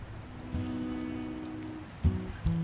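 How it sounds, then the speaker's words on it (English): Rain falling in the war survival game This War of Mine, a steady soft patter across the whole stretch with low tonal game sounds and a couple of brief thumps near the end. "why does it sound like it's raining?"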